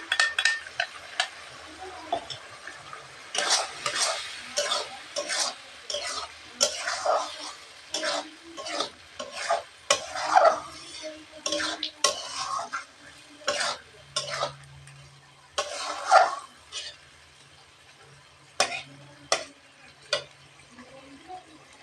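Dal poured into a fried spice mixture in a pot and stirred, with repeated close spoon clinks and scrapes against the metal over a faint sizzle, in uneven bursts with short pauses.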